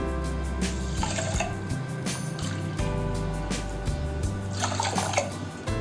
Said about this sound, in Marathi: त्याच्यासाठी आपण 2 कप पाणी याच्यामध्ये घालून घेऊ कुकरमध्ये